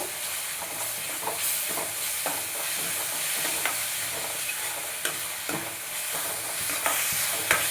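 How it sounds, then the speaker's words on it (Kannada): Onion with ginger garlic paste frying for a mushroom gravy, a dense continuous sizzle and hiss at close range, broken by occasional spoon scrapes and taps, and no one speaking. "ಪೇಸ್ಟ್ ಹಾಕೊಂಡು ಚೆನ್ನಾಗಿ ಫ್ರೈ ಮಾಡಬೇಕು ಅದು ಹಸಿ ವಾಸನೆ ಹೋಗೋವರೆಗೂ"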